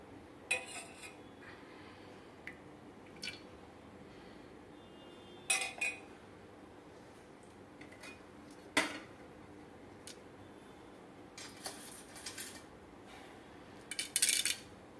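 Pot set down on a stove with scattered metallic clinks and clatters of kitchen utensils, sparse and close in a quiet kitchen before oil goes in for tempering.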